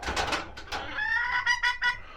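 Several chickens cluck and murmur nearby in a coop in short, overlapping bursts, with a few higher drawn-out calls near the end.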